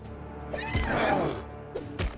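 A horse neighs in the fantasy RPG Pathfinder: Wrath of the Righteous, a single rising and falling whinny in the middle of the moment, with brief thumps before and after.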